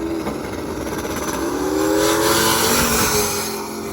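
A hot rod drag race pits a Ventura against a four-door Ford: loud, steady engine roar whose pitch climbs as the cars accelerate, swelling mid-run and easing toward the end, with no talking.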